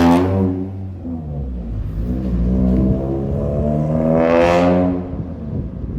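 An EG6 Honda Civic's loud exhaust revs nearby, its pitch climbing and falling across several swells, with a final sharp rise before settling back down.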